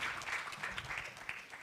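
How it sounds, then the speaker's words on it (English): An audience at the Africa Women's Forum 2025 claps in steady, moderately loud applause to welcome a UN Women representative to the stage, with faint voices mixed in. "Remember, we clap until she gets here and gives us her overview."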